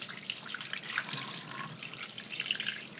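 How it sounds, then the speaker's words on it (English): Tap water runs steadily into a kitchen sink while a rockfish is being cleaned, a close, continuous splashing hiss that holds for a few seconds without speech. "Run some water so we can see what we're doing."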